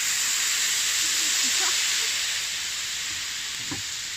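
Liquid dumped onto a hot Blackstone 17 inch tabletop griddle to clean it hisses and sizzles loudly and steadily, slowly easing off, with a couple of faint scrapes.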